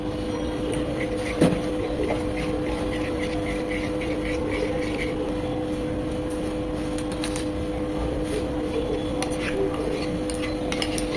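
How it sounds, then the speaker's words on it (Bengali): Spice masala paste for tandoori fish is stirred in a bowl, with soft scraping and light clinks over a constant background hum. "মশলাটা খুব ভালোভাবে মিশিয়ে নিচ্ছি"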